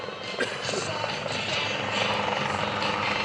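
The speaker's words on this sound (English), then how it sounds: "because Otto has no opposable thumbs, he's going to have to land, friction the controls" Steady helicopter rotor and engine roar at an airshow, a continuous broadband drone with slight fluctuations, fairly close, running without pause under a faint voice.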